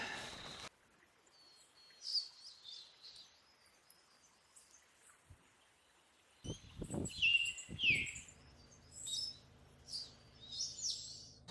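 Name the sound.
birds singing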